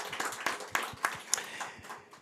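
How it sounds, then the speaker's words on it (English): A small audience at a COP launch of a water and food systems working group claps sparsely, with distinct individual claps fading toward the end. "So a big round of applause to them."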